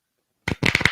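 Playing cards riffled in a poker-style shuffle, a short silence then a quick series of crisp fluttering bursts close to the microphone, with no talking.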